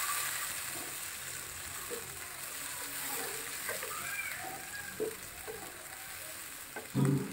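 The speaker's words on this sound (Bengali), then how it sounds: "ঘাটিতে একটু দিয়ে দিব মশলাটা ভালো করে কষিয়ে নিব।" Spice masala with three or four dried chillies fries in a pan for a beef and potato dish, a soft continuous sizzle with faint spatter and a few stirring knocks, the last one louder near the end.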